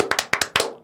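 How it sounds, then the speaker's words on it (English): Four quick hand claps in an uneven rhythm, sharp and close, each with a short decay, ending in a brief ringing tail. "Is it 4 claps or is it 3?"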